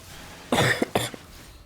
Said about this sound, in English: I'm really sorry for the coughing.